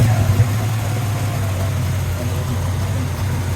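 A 1970 Dodge Challenger convertible with a 440 Six Pack V8 and Flowmaster mufflers idles with a steady, deep rumble close by, loud and even throughout.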